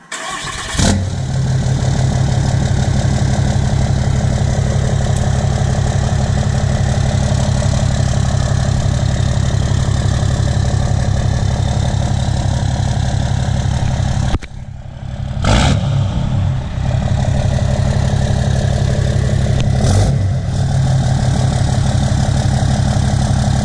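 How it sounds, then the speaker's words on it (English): A 2016 Ram truck with a 6.7 Cummins diesel and a 5-inch straight pipe turbo-back exhaust with no muffler, loud and close, idling with a deep steady rumble and a few sharp revs. "I'm currently running a 5-inch Flo Pro turbo back exhaust, straight pipe, no muffler"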